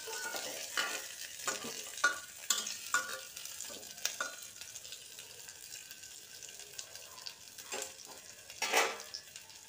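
Bottle gourd pieces turned and stirred in a hot pan on the stove for mung dal, soft scraping and light sizzling with scattered utensil clicks, faint and close, no voices.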